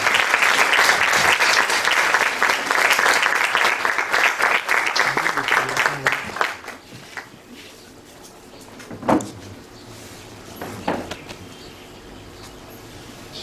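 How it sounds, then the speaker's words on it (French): At a Bible dedication ceremony, an audience breaks into dense, loud applause that lasts about six seconds, then thins to scattered claps and quiet room murmur with a couple of knocks. "que je demande d'acclamer encore"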